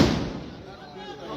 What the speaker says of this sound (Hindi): पटाखा बंद कर दीजिए